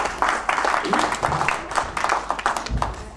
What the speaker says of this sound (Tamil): நீங்கள் கரகோஷத்தில் எங்கள் இன்னொரு முகத்தாரை வரவேற்கின்றீர்கள்